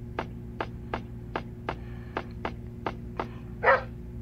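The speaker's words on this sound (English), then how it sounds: "Dog." A toy plays a repeated electronic dog bark, about nine short evenly spaced yaps over a steady hum, ending in a longer, brighter bark-like burst.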